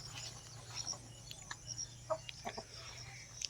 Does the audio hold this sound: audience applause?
no